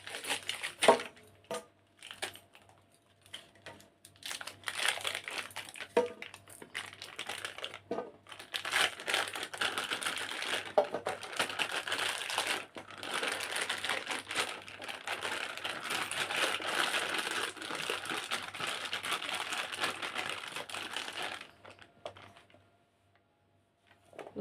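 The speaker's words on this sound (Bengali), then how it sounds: "প্রথমে আমি খেজুরগুলো কেটে নেব, খেজুরের প্যাকেটটা কেটে নেব।" A plastic packet of dates is cut and handled in a home kitchen, giving a long stretch of steady crinkling and crackling with small sharp snips, fairly close and continuous, ending in near quiet.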